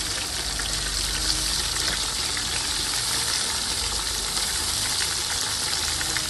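Sliced onion and curry leaves frying in hot oil, a loud, dense, continuous sizzle that holds evenly from start to finish, close by, with no voices.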